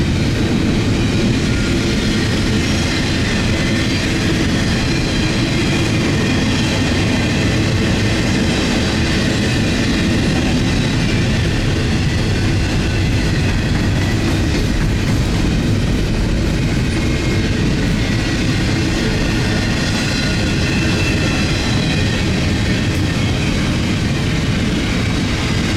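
CN freight train 139 passes at Wyoming, Ontario, powered by diesel locomotives 2925 and 3914, a loud, close, continuous rumble with rhythmic clickety-clack of wheels on rail joints from start to finish.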